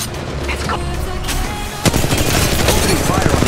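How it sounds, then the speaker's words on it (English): Dense bursts of rapid automatic gunfire from enemies in Apex Legends Mobile, loud and sustained, with a sharp crack partway through that kicks off an even heavier volley. "The enemies are shooting at me."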